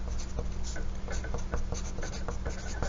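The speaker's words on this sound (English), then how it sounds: "let's make sure we are writing our name at the top of our paper" A pencil or pen writes a name across paper in quick, scratchy strokes with short, irregular taps and pauses, close and steady, with no one speaking.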